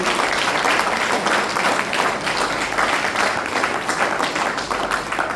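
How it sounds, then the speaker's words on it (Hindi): Sustained audience applause fills a seminar hall for a chemistry lecturer's talk, dense and steady throughout with a faint voice or two underneath. "अपने लिए जोरदार तालियां हो जाए।"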